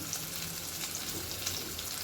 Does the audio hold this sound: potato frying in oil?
yes